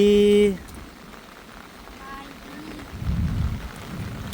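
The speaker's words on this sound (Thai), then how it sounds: "ขอบคุณฝนที่ตกลงมาให้" Rain falls at a rural Thai home as a steady soft hiss of drops, growing slightly heavier toward the end, after a brief tone at the very start.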